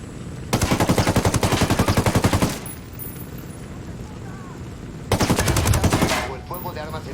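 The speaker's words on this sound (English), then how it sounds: "El fuego de armas enemigas y no sabemos cuántos son." Enemy automatic gunfire in the open-world shooter Ghost Recon Wildlands, heard as two loud, close machine-gun bursts of rhythmic rapid shots, the first lasting about two seconds and the second shorter, with quieter ambience and faint voices between.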